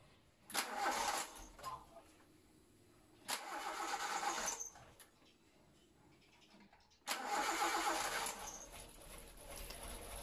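A car engine after throttle body, MAF sensor and idle air control valve cleaning, cranked in three separate attempts: two short starter bursts that die, then a third that catches and keeps running.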